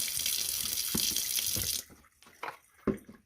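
Water runs steadily into a SodaStream bottle being cleaned, a continuous splashing hiss for under two seconds that stops, followed by a few short bumps and handling sounds.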